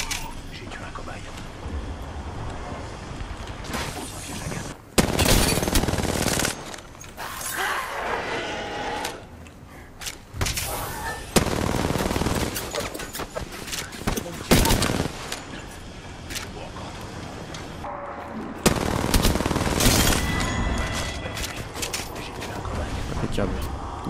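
Sustained automatic gunfire in Apex Legends during a Shadow Royale match played as Caustic, loud and dense with rattling bursts and brief pauses. Someone talks over the shooting in French.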